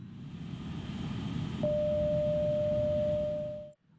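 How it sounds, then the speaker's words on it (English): A steady pure low-frequency cockpit voice recorder test tone comes on partway through over a low Airbus A320 cabin hum, holding level for about two seconds before everything cuts off. "allows pilots to test the CVR system by means of a low-frequency tone that is sounded throughout"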